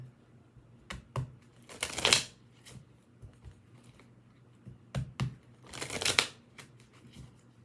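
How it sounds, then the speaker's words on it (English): Two bursts of tarot cards being shuffled, riffling quickly and fairly close, separated by a few soft taps and handling noises. "let me shuffle these up really good"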